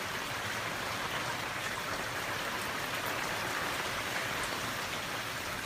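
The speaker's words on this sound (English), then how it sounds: "Rain and thunder and lightning." Heavy rain pours steadily with wind on a Monday morning in the San Fernando Valley, a dense, unbroken hiss of falling water close by, with no voices.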